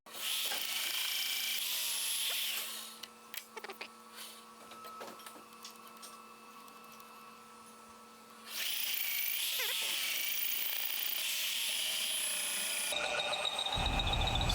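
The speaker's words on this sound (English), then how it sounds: "this first hole drilling this or countersinking this" A Vevor magnetic drill whines loudly, drops to a quieter grinding as it countersinks a hole in aluminum clamped to a steel plate, then revs back up to a high steady whir.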